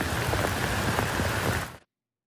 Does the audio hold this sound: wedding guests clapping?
no